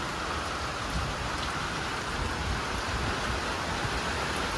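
Steady, even monsoon rain in Kerala pours down in a dense, unbroken patter across the whole stretch, with no voices or other sounds.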